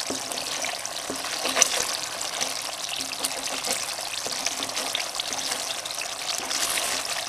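Coconut milk frying down into latik in a pan, a constant soft sizzle and bubbling hiss with occasional stirring scrapes, steady and close, with no voices.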